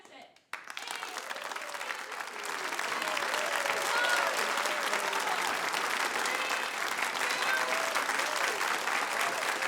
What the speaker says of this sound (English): Getting the hands warmed up to clap.